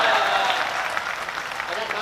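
Audience applause at a Hindi stage poetry gathering: a dense, steady wash of many hands clapping, fairly loud and continuous for about two seconds, with voices mixed in.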